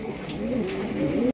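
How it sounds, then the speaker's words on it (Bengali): Desi golla pigeons coo close by, a low, continuous rolling warble that rises and falls over a faint murmur of background noise. "আজকে প্রত্যেকটা কবুতর কিন্তু ডাকতেছে"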